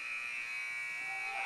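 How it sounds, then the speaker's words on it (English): The buzzer ending a period at a girls' high school basketball game between South Holt and Albany sounds as one sustained, steady electronic tone, loud and unbroken for the whole moment, with faint crowd ambience beneath. "the three-pointer goes in. That time by Gabby Newman as she banks it in at the buzzer"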